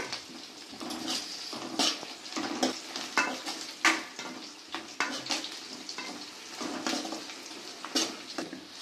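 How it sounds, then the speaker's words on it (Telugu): Onions frying in a pan for Nellore mullet fish curry, a steady loud sizzle with repeated stirring scrapes and clatters throughout, close and without speech. "ఆనియన్స్ బాగా ఫ్రై అయినాయి."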